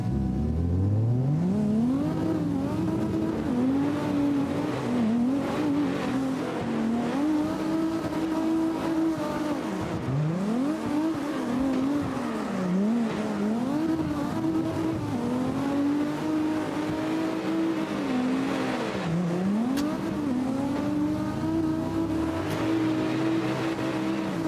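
A race car engine revs hard in a racing video game, its pitch sweeping up and down repeatedly as the car accelerates, shifts and slides, loud and continuous with faint tire noise and no talk.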